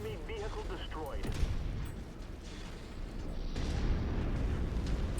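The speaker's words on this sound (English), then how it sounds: "Enemy vehicle destroyed." An enemy vehicle explodes in the MechWarrior 5 mech combat game, with heavy rumbling booms and gunfire-like blasts that swell into a dense, continuous roar.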